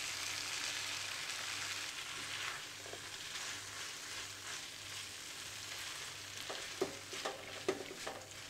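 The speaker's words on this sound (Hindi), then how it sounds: "अब हम इसमें चेडर चीज़ मिक्स कर देंगे।" Chicken sandwich filling is stirred with cheddar cheese in a pan, a faint soft sizzle under low scraping with a few light spoon taps toward the end.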